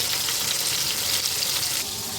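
Spices, salt and a chopped large tomato fry in hot oil in a pan, giving a continuous bright sizzle and crackle with no voices over it.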